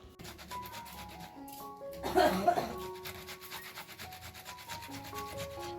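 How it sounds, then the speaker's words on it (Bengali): A tomato rubbed against a grater while preparing a potato and lentil snack, giving a scraping rasp that swells briefly and sits under steady talk and faint kitchen background. "টমেটোটাকে কিন্তু এরকম ঘষে নিলে বেশি ভালো হবে আমি কেটে নিয়ে টমেটোটা এরকম ঘষে নিলাম"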